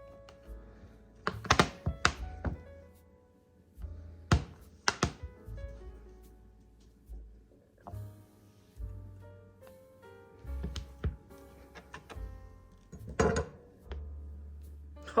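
A knife slices through homemade no-bake chocolate peanut butter eggs on a board, producing a series of close, sharp taps and dull thunks at an uneven pace.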